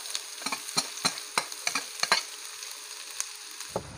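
Onions sautéing with garlic in a pan for menudo, a low sizzle punctuated by sharp repeated clacks and scrapes of a utensil against the pan, close and uneven in rhythm.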